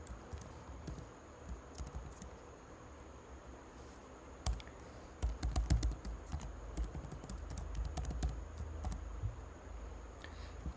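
Quiet typing on a computer keyboard, with irregular bursts of key clicks that grow busier and denser partway through before settling into steady tapping.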